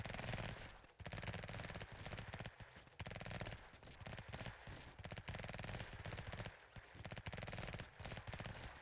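Faint, steady automatic gunfire in an emergency-response video game, with rapid bursts running continuously beneath distant game chatter and radio-style voice lines.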